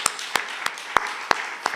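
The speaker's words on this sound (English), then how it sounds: "Round of applause for that." Sparse, evenly spaced handclaps from an audience in a city auditorium after a poem reading, six sharp claps about a third of a second apart over a quiet room, like a slow round of applause.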